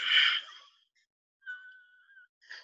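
A woman breathes out slowly and heavily through her throat in a downward birthing breath, a loud breathy exhale followed by a quieter drawn-out throaty tone and a short final breath, close to the microphone.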